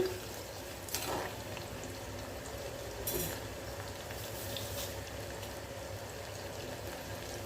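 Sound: single-clove garlic sautéing in a pan

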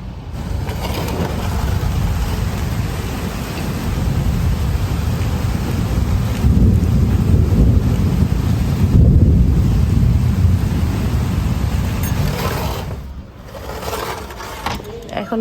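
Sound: heavy rain

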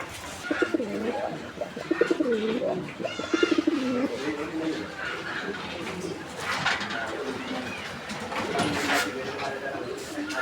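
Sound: Deshi Golla pigeon cooing

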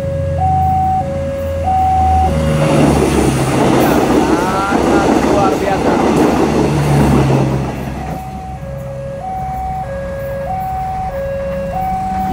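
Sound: KCJB feeder train passing a level crossing

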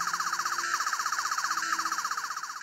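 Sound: Doctor Who 12th Doctor toy sonic screwdriver hidden sound

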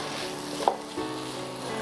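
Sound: sautéing masala for chicken biryani in a pan

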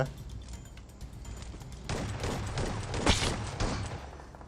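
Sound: gunfire in video game PUBG Mobile

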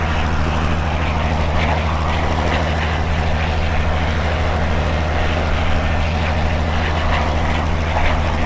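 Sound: Spitfire propeller engine in flight simulator game

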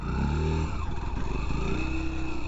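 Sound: Yamaha FZS Hybrid motorcycle full rev launch, traction control on

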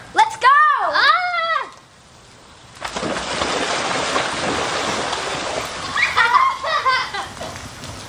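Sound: children splashing into a pool

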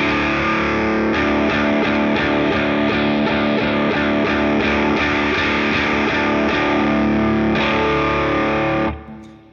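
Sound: guitar through NUX Steel Singer Drive pedal, adjusting filter knob

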